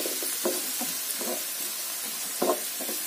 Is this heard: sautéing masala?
yes